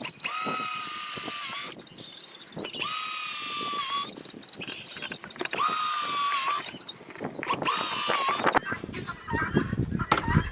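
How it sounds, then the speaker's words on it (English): A power drill whines in four bursts of about two seconds each, loud and close, drilling down through a wooden table top, with scraping and clatter in the pauses between. "and drill back down through."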